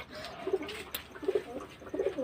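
Pigeons in a loft coo softly in a few repeated low, throaty bursts, close by, with faint background movement between calls.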